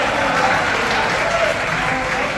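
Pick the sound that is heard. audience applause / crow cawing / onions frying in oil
audience applause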